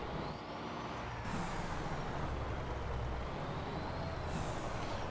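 International 9800 truck in American Truck Simulator, a steady diesel engine drone with two sharp air-brake hisses, one early and one near the end, no talking.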